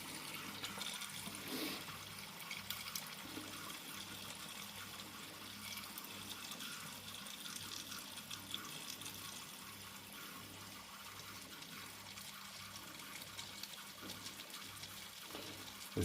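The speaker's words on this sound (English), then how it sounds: "And then I usually fill up with hot water." Hot water running into a snow foam bottle, a steady quiet gushing fill that continues evenly without pause, with no talking.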